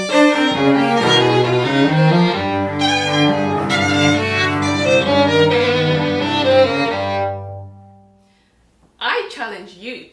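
Violin and cello together play a theme from Ravel's Sonata for Violin and Cello, sustained close-miked string lines for several seconds before fading out, followed by a brief voice speaking.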